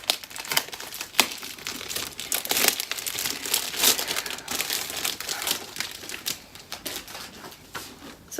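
Paper and plastic packaging crinkling and rustling as an OwlCrate book subscription box is unwrapped, a dense run of close, crackly handling noises with sharp snaps and tears, no talking.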